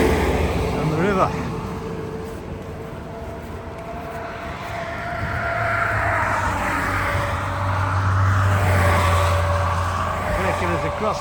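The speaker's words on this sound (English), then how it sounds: "the traffic on here is just pretty horrendous" Steady road traffic on the busy Shenandoah River Bridge heading toward Harpers Ferry, a continuous engine drone and tyre roar that swells as heavier vehicles pass nearby, with a person talking over it.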